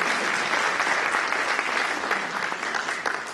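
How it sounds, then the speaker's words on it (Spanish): A church congregation applauds a sister, giving steady, full clapping that fills the room evenly for a few seconds without any voices over it. "Vamos a dar un aplauso a la hermana que escuchó"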